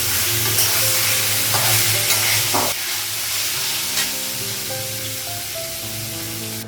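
Potatoes and paneer fry loudly in a hot pan, a steady sizzle broken by scraping stirs, with a low steady hum underneath.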